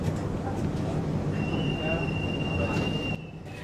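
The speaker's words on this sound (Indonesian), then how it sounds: "Akhirnya setelah menempuh perjalanan sekitar 7 menitan, kereta Kalayang ini tiba di Terminal 3." An automated people mover train at Soekarno-Hatta airport rumbles steadily with a thin high-pitched whine running through it, then the noise drops suddenly near the end as it comes to a stop at Terminal 3.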